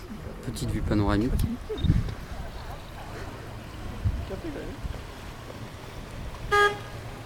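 A passing boat on the lake at the Summer Palace sounds a short, bright horn toot near the end, heard over murmuring voices and outdoor background noise.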